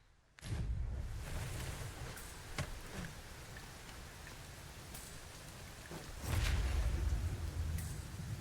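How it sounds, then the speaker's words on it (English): Heavy rain in Dragon's Dogma 2 on a mountain climb, a dense continuous hiss of downpour with occasional sharper drop ticks, swelling louder near the end, with no talk. "It is raining most heavily."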